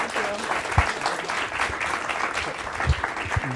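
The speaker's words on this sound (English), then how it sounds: "how about one more round of applause?" Audience applause after a talk on mathematics and seat belt and whiplash injury performance: a steady wash of many hands clapping for several seconds, fairly even in level, with a few louder thumps and no clear speech.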